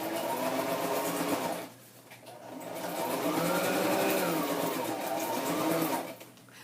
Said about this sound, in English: So I think I'm just going to put a little stitching over that washi.